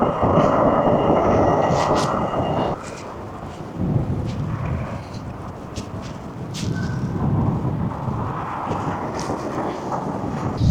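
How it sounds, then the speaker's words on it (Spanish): A tram in The Hague rumbles past nearby with a low rolling roar and rattling metallic clanks, swelling and fading over several seconds. "Pasa el tranvía."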